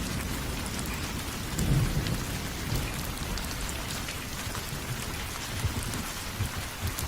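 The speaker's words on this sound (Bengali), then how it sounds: "এই ঝড় বৃষ্টির রাতে আমি এখন কোথায় আশ্রয় নেই?" Stormy-night cartoon effect of steady heavy rain with a low thunder rumble swelling briefly near the start.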